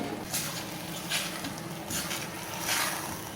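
Palak paratha frying in ghee on a pan gives a steady close sizzle that swells in soft bursts every second or so, with no talk over it.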